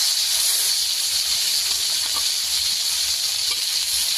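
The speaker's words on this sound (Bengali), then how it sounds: "বেটে রাখা মটরশুঁটিটা দিয়ে দেব।" Ground green peas hit hot oil in which cumin seeds were just fried, giving a steady, close, even hiss that carries on without a break.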